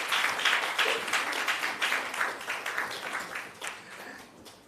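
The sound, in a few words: audience applause at a conference award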